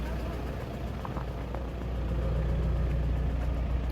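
Isuzu pickup recovery vehicle engine idling, a steady low rumble that swells slightly in the second half, close and continuous with no talk.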